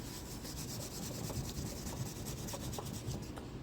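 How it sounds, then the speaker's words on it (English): A hand rubbing wet erase marker on a desktop whiteboard, a steady dry scrubbing friction sound repeating in quick strokes, close and moderately loud, with no talking. "I'm not going to smear and smudge them when I just touch them with my arm or my wrist"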